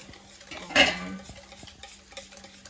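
Whisk stirring water into pizza dough in a mixing bowl, a soft close scraping swirl with a brief louder clatter near the start, then quieter continued stirring alone.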